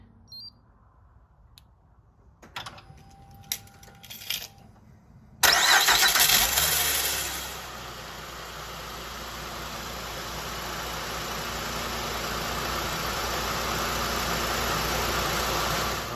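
A 2007 Honda Pilot engine cranks and fires after a few quiet clicks, then settles into a steady, close idle that runs on alone without talk.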